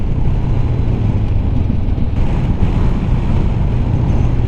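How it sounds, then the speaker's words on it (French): Strong wind near Laouzas lake on an overcast day, a steady loud low rumble of gusts buffeting the microphone, heard alone without speech. "là il y a beaucoup plus de vent"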